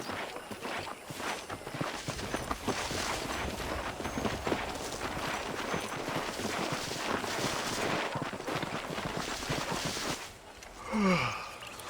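Horse hooves in Red Dead Redemption, a steady clip-clop of walking and trotting under a busy game soundscape, with a brief louder burst near the end.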